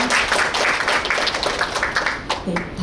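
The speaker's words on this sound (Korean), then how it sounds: "큰 박수 부탁드립니다" Steady applause fills a symposium hall on South Korea's economy and family business succession, many hands clapping in a dense, even patter near the microphone that holds throughout before easing slightly at the end.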